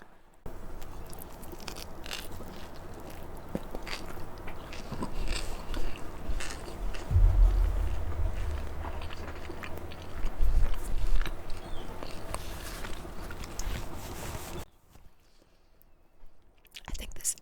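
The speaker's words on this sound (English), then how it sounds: "Take a bite, savor the bite" Close, quiet eating sounds during an ASMR mukbang, with soft biting and chewing that swell in the middle and then fade to near silence near the end, over a steady low background hiss.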